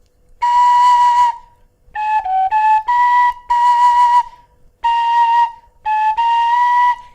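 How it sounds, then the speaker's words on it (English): Clarke tin whistle played close and loud, a phrase of clear, bright sustained notes with short gaps between them and a few quick note changes. "Nice little whistle though, nice looking, nice sounding."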